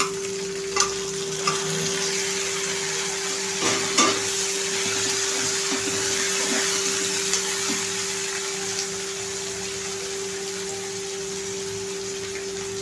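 Cluster beans (gavar) with freshly added tomato sizzle and fry steadily in a pan, a continuous close hiss with a few soft stirring knocks and clinks scattered through, no talking.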